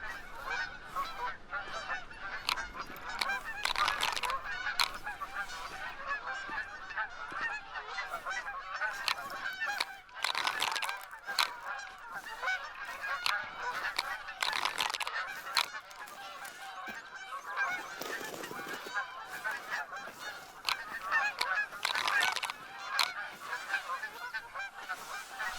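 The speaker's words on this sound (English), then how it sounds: "you hear all the geese everywhere" Many geese honk continuously throughout an early-morning hunt in theHunter: Call of the Wild, a dense chorus of overlapping calls from near and far, with no talking.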